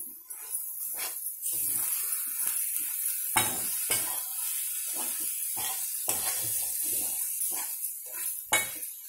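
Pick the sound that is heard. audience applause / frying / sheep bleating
frying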